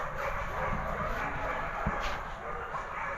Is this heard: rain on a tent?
no